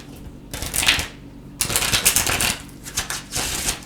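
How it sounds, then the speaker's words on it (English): A tarot card deck is shuffled by hand in two close, crisp bursts of riffling card noise, a short one and then a longer one. The shuffling is alone, with no talking. "I'm going to give this 3 good shuffles."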